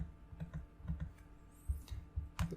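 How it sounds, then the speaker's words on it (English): Quiet typing on a computer keyboard in a few short bursts of soft keystrokes, with brief pauses between runs, close by and without talk. "So let me just type right here."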